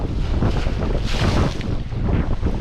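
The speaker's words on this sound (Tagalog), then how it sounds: "umahampas talaga yung alon" Big waves crash and surge against the Tanauan baywalk with a loud, continuous roar, and gusts of wind buffet the microphone throughout. There is no talking.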